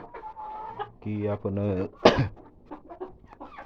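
A broody hen sitting on eggs as her chicks hatch gives a run of loud, close clucks, with a sharp squawk midway and someone talking over and around her.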